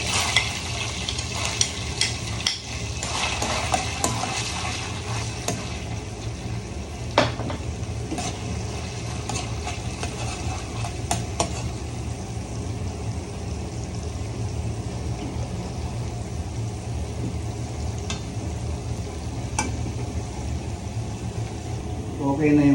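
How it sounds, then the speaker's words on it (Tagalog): Garlic frying in a pan with a steady, even sizzle that lasts throughout, dotted with occasional light clicks of a utensil. "Lagyan natin itong garlic."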